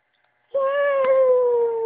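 A voice imitates a cat with a single drawn-out, clear meow, sustained and slightly falling in pitch, close and alone after a moment of silence.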